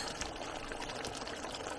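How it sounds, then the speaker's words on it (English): Cream is poured into a pot of chicken curry, making a brief, soft liquid splash and trickle heard close up. "the last touch will be 4 tablespoons of cream"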